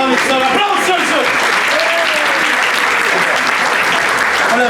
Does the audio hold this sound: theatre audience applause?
yes